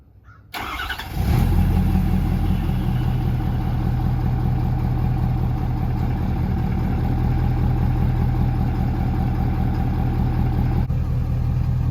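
A 2011-16 Ford Powerstroke diesel truck engine cranks and fires up by remote command start, then settles into a loud, steady diesel idle that runs on unchanged.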